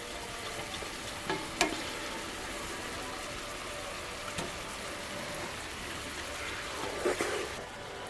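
Goose meat frying in a hot pan gives a quiet, steady sizzle with a few soft clinks and stirring sounds.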